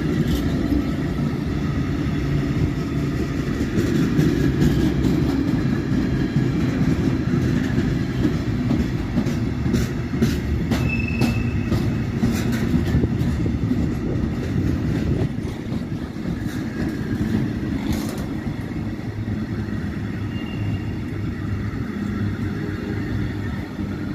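A container train runs through Gemünden am Main station in Bavaria, a loud steady rumble and rolling roar from close by with rhythmic wheel clicks and squeals over the rails for the whole stretch; no talk.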